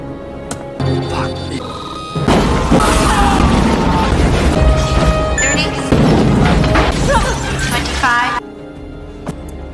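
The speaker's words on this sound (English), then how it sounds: "a huge explosion destroys the building behind them" A bomb explodes and destroys a building in the 1994 action film The Specialist, a loud sustained blast with crashing debris that rumbles for several seconds before cutting off.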